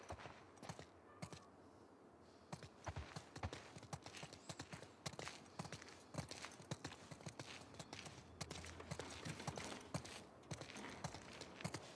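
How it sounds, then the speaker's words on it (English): Horse hooves clip-clop steadily in the video game The Last of Us Part II, an ongoing walking rhythm of sharp knocks that carries on without pause, with faint creaks and no speech. "Let's get back to the horses."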